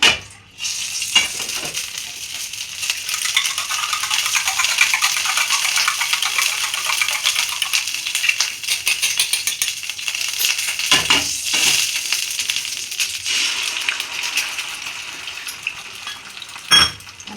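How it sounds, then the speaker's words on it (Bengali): Beaten eggs with a little salt fry in a small amount of white oil in a pan, a continuous bright sizzle running steadily with occasional scraping and tapping of a utensil against the pan. "ফেটিয়ে ডিম দুটো হালকা নুন দিয়ে সাদা তেল দিয়ে অল্প তেলে ভেজে ডিমটা"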